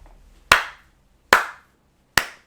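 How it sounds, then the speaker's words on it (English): Three separate, crisp hand claps from one person, evenly spaced and close, each ringing briefly before near silence. "Round of applause, ladies and gentlemen."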